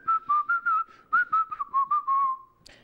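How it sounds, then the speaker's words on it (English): A person whistles a quick run of short, clear notes followed by a longer held note, close and alone with no talk. "Because not everybody can whistle, can they?"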